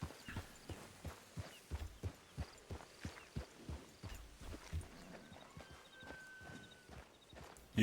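Horse hooves clip-clopping in the Red Dead Redemption 2 video game, a steady walking rhythm of distinct close hoof knocks, fairly faint, with soft background ambience.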